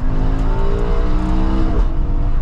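An Audi R8 V10 downshifts manually from fourth through third to second gear, its loud, close engine note stepping in pitch with each shift.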